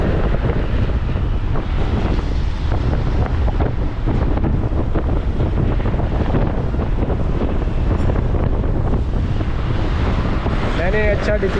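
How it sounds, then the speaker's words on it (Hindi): Strong storm wind in Islamabad roars steadily and loudly throughout, with constant buffeting, rushing noise and no letup. "बहुत तेज़ हवा चल रही है।"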